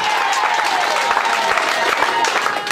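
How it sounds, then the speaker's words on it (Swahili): A congregation claps for Jesus during a Tanzanian church service, a dense steady patter of many hands filling the room, with a voice carrying over it. "Mpigie Bwana Yesu makofi katika jina la Yesu Kristo"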